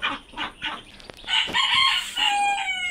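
Chickens cluck around a group of chicks being fed, a busy mix of short clucks and higher peeping calls close to the microphone, with some rising tones, and no speech over it.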